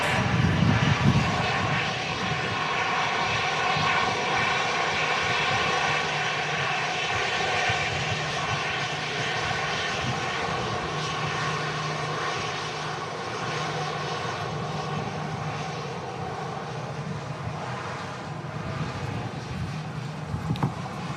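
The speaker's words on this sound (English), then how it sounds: "And our next arrival is an A319 EasyJet in from Munich." An EasyJet Airbus A319 arriving at Manchester Airport in strong crosswinds gives a loud, continuous jet-engine roar that stays fairly constant throughout, with no voices.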